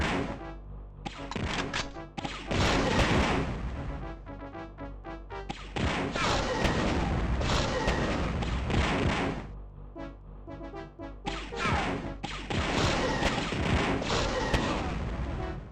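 Repeated bursts of weapon fire in Star Wars: Dark Forces Remastered, loud and dense, with crashing impacts and short gaps between volleys across the whole stretch.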